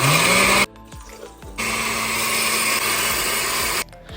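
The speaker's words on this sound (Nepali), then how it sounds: "अब हाम्रो टाइम आउँछ सबै इन्ग्रेडियन्टलाई ग्राइन्ड गर्ने" An electric mixer grinder whirs loudly while grinding spices and ingredients for masala chaas, running in two close bursts separated by a short pause, then switching off.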